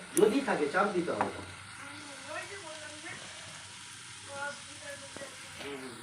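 Vegetarian cabbage curry sizzles and crackles in a pan for about a second, then the kitchen settles into a quiet hiss while a faint voice carries on in the background.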